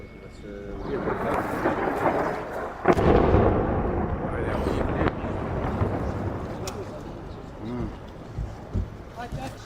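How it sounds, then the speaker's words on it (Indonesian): Heavy booms from explosions roll and rumble across Beirut, Lebanon, with a sharp blast near the middle and a lower, echoing rumble trailing afterward. "Kepulan asap dan suara ledakan terdengar di berbagai area kota Beirut"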